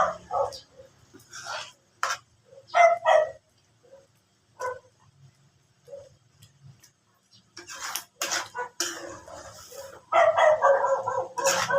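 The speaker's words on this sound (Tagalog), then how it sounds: "Ay, ingay ni Doggy." A dog barks in short repeated bursts, with scattered yips and gaps of quiet between them, then a denser run of barking near the end, fairly close in a home setting.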